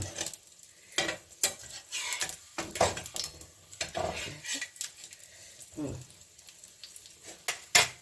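Pitha fries in oil in a pan with crackling sizzles, punctuated by sharp metallic scrapes and clinks of a utensil against the pan, close and uneven in rhythm.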